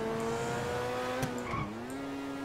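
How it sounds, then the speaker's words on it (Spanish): A car accelerates in the GTA 5 video game, its steady engine tone rising and shifting in pitch with a brief tire chirp midway, loud and continuous with no talk. "Pegamos aquí un acelerón"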